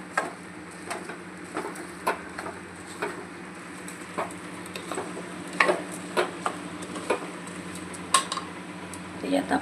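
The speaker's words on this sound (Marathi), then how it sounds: "चांगलं एकजीव करूया याला व्यवस्थित." Washed rice being mixed for veg pulao in a pot, a series of scattered clinks and scrapes of a spoon against metal over a quiet background, close and without talk.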